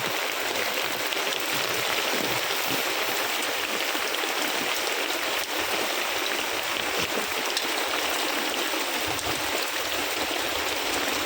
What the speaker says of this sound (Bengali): তো বন্ধুরা প্রচুর বৃষ্টি, আর এই সাইডে আমার পিঠটা সব ভিজা যাইতেছে।